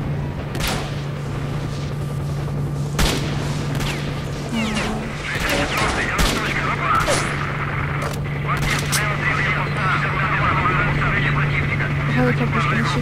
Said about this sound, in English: The helicopter's been shifted in behind.